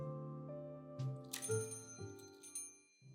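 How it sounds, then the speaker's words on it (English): A counter bell in the Best Served Cold video game rings with bright metallic dings, several strikes in quick succession with lingering tones over soft background music. "Click the bell on the counter to signal all customers to leave and head home."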